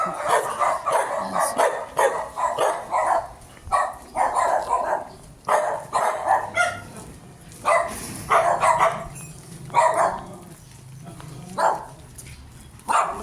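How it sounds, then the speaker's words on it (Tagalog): Dogs barking repeatedly in uneven bursts, several overlapping barks with short pauses, fairly close and loud. "Dami aso."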